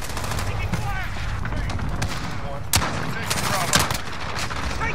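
Gunfire in the video game Call of Duty Modern Warfare, several sharp shots and bursts over continuous battle noise, close and punchy, with voices calling out over the combat.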